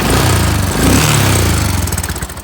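A 2014 Royal Enfield Continental GT with a fuel-injected 535cc single-cylinder engine thumps close by in a steady idle, the pulsing getting choppier toward the end.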